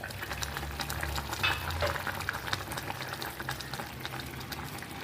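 Chopped banana stem simmers in water in a pot for sambar, a steady soft bubbling and light sizzle with a faint stir or clink partway through, no talk.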